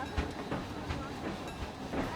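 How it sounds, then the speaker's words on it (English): A train in a Western-themed theme park simulation game creeps up an incline, giving off steady rhythmic clacking and rumbling at moderate loudness, with regular clicks spaced about every third of a second and no voices. "I didn't think about how slow the train was going to be climbing up this,"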